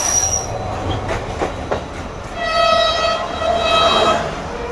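Passenger trains standing at a station in Pakistan on the Karachi to Sukkur line, with loud close rail rumble and a long high metallic squeal of wheels on track.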